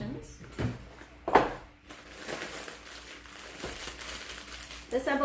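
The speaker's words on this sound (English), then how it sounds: "You're going to take it out of the plastic bags" Plastic bags crinkle and rustle around canister filter media, including stacked carbon sections, during unboxing, with brief crackling bursts and handling noises while a person talks nearby.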